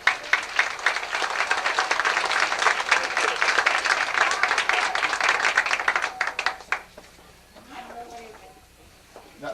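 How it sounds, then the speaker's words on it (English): Applause from the audience at a 1986 Rehoboth talent show, loud continuous clapping for about six seconds that thins out and stops, followed by quieter room sound and a few voices. "Let's give her a round of applause"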